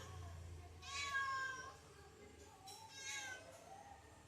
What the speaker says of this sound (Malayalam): പുറത്തിറങ്ങി നോക്കുമ്പോൾ ഒരു പൂച്ചക്കുട്ടൻ.